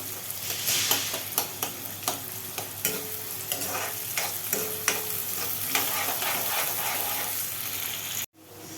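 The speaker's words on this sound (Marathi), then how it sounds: "कांदा टाकून झाल्यावर त्याला चांगलं लालसर भाजायचा कांद्याला" Onion frying in a pan until reddish sizzles steadily while a spoon stirs in a regular rhythm of scrapes and knocks, ending in a sudden brief cut.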